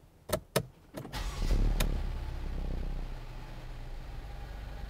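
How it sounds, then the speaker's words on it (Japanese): A 2014 Mercedes-Benz E250 Coupe with AMG Sport Package starts up nearby: a few sharp clicks, a brief cranking burst, then the engine settles into a steady, low idle hum. "ではエンジン始動していきます。"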